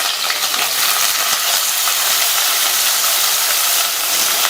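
Chopped onion hits hot oil with whole spices already fried, giving a steady, loud broadband sizzle and hiss that holds evenly from start to finish with no talk over it.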